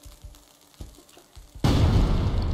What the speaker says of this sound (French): je sais pas si l'explosion de sa mort va toucher à des worms